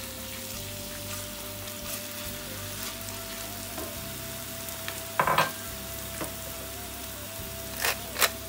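Meat for sate Padang sizzles steadily in hot oil with a low background hum, punctuated by a few clattering scrapes and taps of a utensil against the pan.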